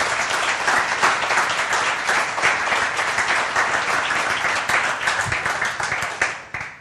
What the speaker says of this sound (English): can we have another round of applause for Ricky and the team?